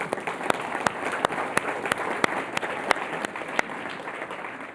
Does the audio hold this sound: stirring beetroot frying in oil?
no